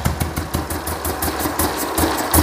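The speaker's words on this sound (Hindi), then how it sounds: "सबसे पहले आप इंजन की साउंड सुनिए इस गाड़ी की" Royal Enfield Bullet 350 single-cylinder engine fitted with a Patiala silencer, idling with a steady deep thumping exhaust beat, close and loud, with no talking.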